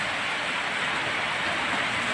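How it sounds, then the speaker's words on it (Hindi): Heavy rain falls outside onto a tin roof, an even, continuous hiss with no pauses or voices. "और बाहर बारिश हो रही है बहुत तेज़ बिजली चमक रही है"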